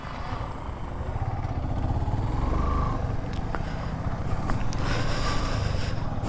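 Motorcycle engines rumble and whine as several bikes ride past on a road in Bandarban, a continuous engine noise with rising and fading whirs.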